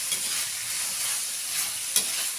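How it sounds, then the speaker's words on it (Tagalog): Water spinach (kangkong) being stirred in a hot pan with oyster sauce, giving a steady, close sizzle broken by soft scraping strokes and one sharper clink near the end. "Tapos halu-haluin lang din natin."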